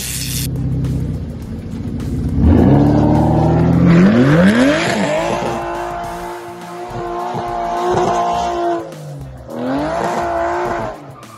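An Aston Martin DB11 engine revs hard with rising pitch sweeps, then settles into a steady loud idle-to-rev pattern with a second surge near the end, close and alone with no talk.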